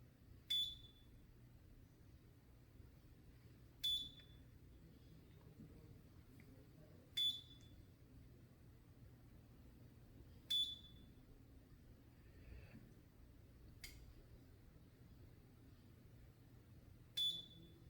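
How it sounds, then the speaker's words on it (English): A sharp electronic beep from a non-surgical face-lift treatment device repeats about every three seconds, six times in all, over a quiet low hum. "2 beeps and then you move further, or you do 4 beeps"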